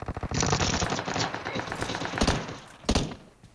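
Rapid bursts of automatic gunfire in PUBG Mobile, loud and close, in a fast rattling stream with a few heavier shots near the end, during a fight among shipping containers.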